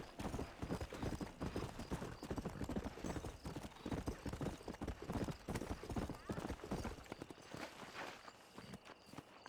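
A horse's hooves clip-clop at a steady trotting rhythm in Red Dead Redemption, close and continuous, slowing near the end, with a voice talking underneath.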